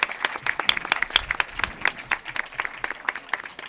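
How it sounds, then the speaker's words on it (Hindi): A quiz-show audience keeps up steady applause for a guest on stage, with many crisp, overlapping hand claps at moderate loudness and an even rhythm throughout. "आपकी तालियां बजती रहे महेंद्र जी के लिए"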